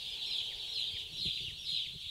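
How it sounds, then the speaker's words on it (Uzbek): A crowd of day-old hatchling chicks peeping at a poultry site, a continuous chorus of high-pitched cheeps, fairly close and steady. "Mana shu jo'jalar bugun tuxumdan ochib chiqqaniga hali bir kun bo'ldi."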